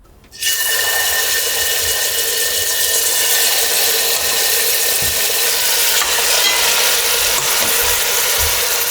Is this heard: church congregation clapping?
no